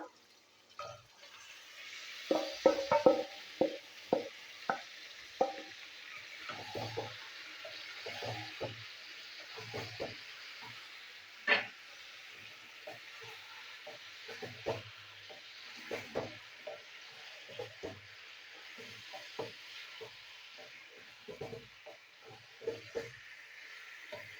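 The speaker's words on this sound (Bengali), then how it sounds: "এবার দিয়ে দেবো চিকেন ম্যারিনেট করা" Marinated chicken frying in spiced masala for chicken curry, a soft background sizzle broken by repeated spatula scrapes and stirring knocks at an uneven rhythm, moderately quiet.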